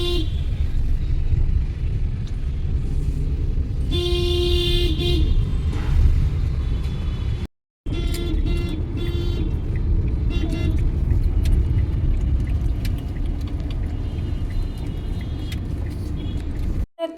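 A car travels along a road with a constant rumbling engine and traffic noise, while a horn honks clearly twice, once near the middle and again shortly after.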